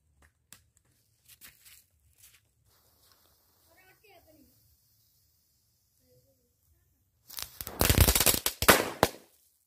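A quiet stretch of faint crackles and a few soft voices gives way to a loud, dense volley of firecrackers buried in a sand mound outdoors, popping rapidly for about two seconds.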